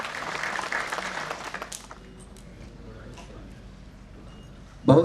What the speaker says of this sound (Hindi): जोरदार तालियों से सम्मान करें।